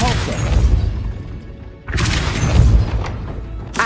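In Hogwarts Legacy, a Depulso spell strikes with a heavy booming impact, then a second crashing burst with a shattering edge follows shortly after, loud and close over game ambience.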